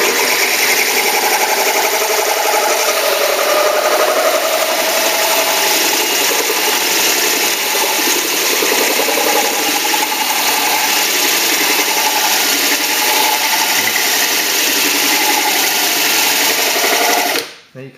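A power drill bores a hole through a Pyrex glass dish, making a loud, steady high whine with gritty grinding that holds for about seventeen seconds before cutting off abruptly.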